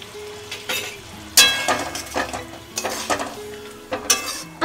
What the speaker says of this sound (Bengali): আর নেড়ে দাও।